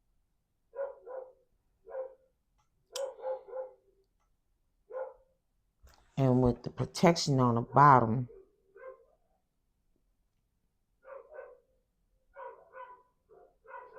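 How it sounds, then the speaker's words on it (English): Dogs bark outside, with short, distant yaps in scattered bursts and a louder, closer cluster of barks in the middle, while a person talks indoors. "y'all heard dogs barking outside?"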